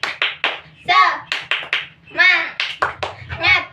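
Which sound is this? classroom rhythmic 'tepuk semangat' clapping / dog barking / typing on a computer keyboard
classroom rhythmic 'tepuk semangat' clapping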